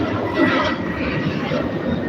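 A steady, broadband roar from an airplane passing overhead fills the whole stretch, a continuous rumble with no breaks, heard outdoors at moderate loudness.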